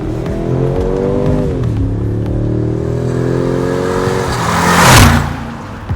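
2025 Mercedes-AMG G63, a 2.6-ton SUV with a 4-liter twin-turbo V8, accelerating hard: a loud, rising engine drone that climbs through gear changes with a brief dip before pulling again, ending in a whooshing surge.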